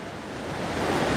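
Open-ocean waves break and wash onto a Hawaii beach near reef and coral, a soft, steady surf roar with faint wind noise, slowly building in loudness, no voices.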